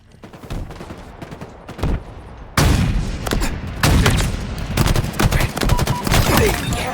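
Dense, loud gunfire from the video game Halo Infinite, quieter shots at first, then a sudden jump into sustained rapid bursts and cracks that keep going to the end.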